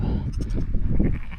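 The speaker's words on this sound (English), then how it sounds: "These little sheep." Sheep bleat in short wavering calls close by in the Peak District countryside, several overlapping across a second or so, over a steady low rumble of wind or movement.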